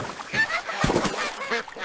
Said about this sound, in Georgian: ეს არის იხვი. იხვი შინაური ფრინველია.